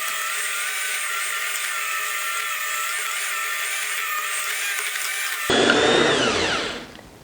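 An electric hand mixer beats lemon cupcake batter in a steady, continuous whir that runs for several seconds, then shifts to a louder, rougher tone with a falling pitch as the speed changes, before trailing off near the end.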